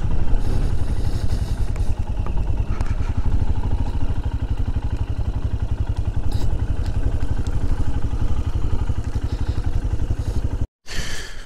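A motorcycle engine running steadily and loud nearby as the bike comes to a stop and idles, with a low continuous rumble that cuts out briefly near the end.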